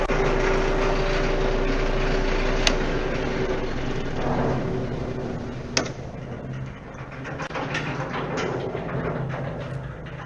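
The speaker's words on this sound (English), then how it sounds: "So you turn the conveyor on first, and then the vibrating motor." Vibrating motor on the hopper of a diesel-powered jaw crusher, a loud continuous high-pitched mechanical hum with engine drone underneath, steady throughout with a couple of sharp knocks.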